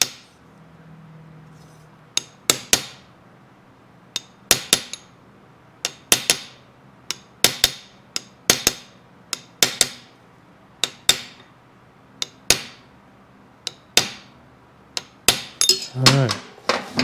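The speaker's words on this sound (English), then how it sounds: "Just use a little hammer." Small hammer tapping a punch to seat a crankshaft seal on a Yamaha Jet 90/100 outboard: sharp metallic strikes, close and loud, spaced about a second apart, with a quicker cluster of taps near the end.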